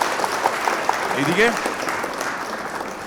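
Audience applause at a seniors' fashion gala in Kolkata, a steady wash of clapping running through the clip while someone speaks over it.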